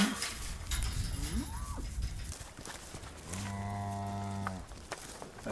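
A cow on a ranch in Paradise Valley gives a long, low, droning moo at close range, following rustling and outdoor background noise.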